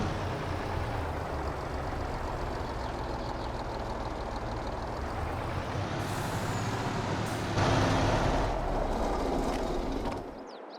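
A truck in Farming Simulator 22 rumbles steadily, then releases a loud hiss of its air brakes near the end before the sound cuts off; no one speaks.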